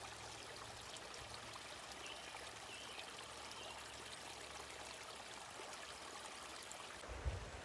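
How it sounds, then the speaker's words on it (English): A small creeklet on the middle fork of the Cosumnes River trickles and flows steadily with a soft, continuous wash of water throughout, fairly quiet with a brief low thump near the end. "Beautiful little creeklet."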